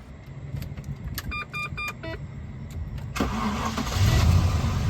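A classic car with a 4-litre engine cranks and fires up, then settles into a steady, meaty idle that grows louder toward the end, with faint clinks and rattles before the start.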